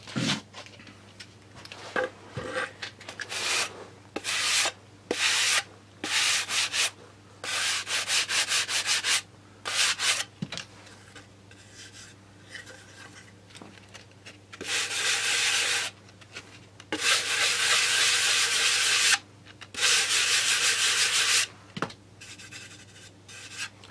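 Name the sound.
sanding down filler in a groove, Coyote build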